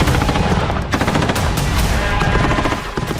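Rapid automatic gunfire during street fighting in Kursk, loud and continuous with dense overlapping bursts and sharp reports throughout, no voices.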